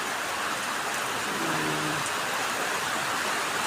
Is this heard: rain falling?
yes